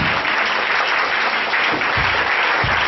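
A church congregation claps in dense, steady applause that fills the space continuously, loud and close, with no voices standing out above it.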